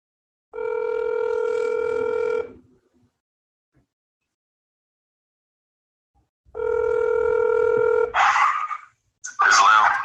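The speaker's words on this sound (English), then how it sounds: "I'm going to call him on my other phone so you'll be able to hear him out." A phone call rings out twice, each a sustained electronic tone lasting about two seconds, separated by silence, then a voice briefly comes on the line as the call connects.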